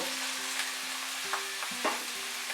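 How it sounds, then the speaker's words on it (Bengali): Diced potato and boiled jackfruit fry together with a little turmeric in a pan, giving a steady close sizzle broken by a few sharp stirring scrapes. "আলু আর সিদ্ধ করে রাখা এঁচোড় একসঙ্গে আমি ভেজে তুলে নেব"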